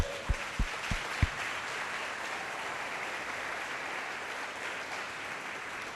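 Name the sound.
applause for a speaker in church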